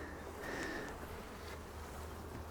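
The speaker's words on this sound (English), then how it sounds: "Oh, you see the bees are up there pretty nicely." Honey bees buzz in a steady, dense drone inside an opened hive super, a continuous close hum with no pauses.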